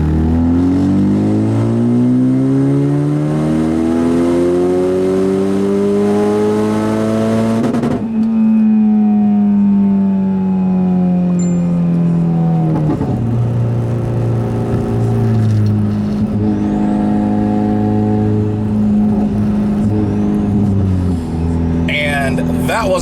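A tuned 2015 Ford Mustang EcoBoost pulls hard in third gear from low revs to redline, its engine note climbing steadily and loud, dropping back after about eight seconds, then droning on under steady road and wind noise.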